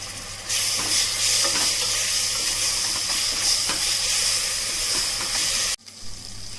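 Ginger and garlic sizzling with masala in hot oil for Chettinad-style chicken gravy, a loud steady frying hiss with faint stirring scrapes, cutting off abruptly near the end.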